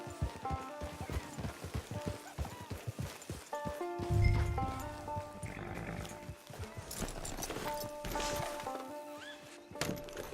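Horse hooves clip-clop at a steady rhythm in the video game Red Dead Redemption 2 Online, with a whinny rising partway through over quiet background music.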